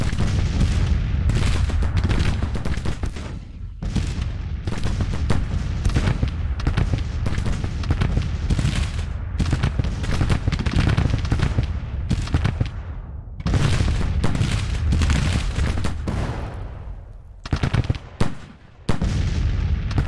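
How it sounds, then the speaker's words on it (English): Ordnance rifles firing counter-battery artillery in a Civil War strategy game, a dense barrage of booming shots and crackling volleys overlapping continuously, loud and close, with brief gaps near the end. "Ordnance rifles. Let's do counter battery fire with them."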